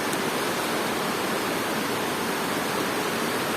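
Excess water drains from a hydroponic lettuce setup in an urban garden, a steady, dense rushing flow that stays even and fairly close throughout, with no voices.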